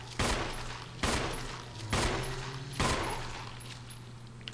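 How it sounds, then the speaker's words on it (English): Four sharp gunshots ring out at roughly one-second intervals in Resident Evil Remastered, each loud crack trailing into a decaying echo over a low steady hum. "I'm gonna run back here and shoot you from here."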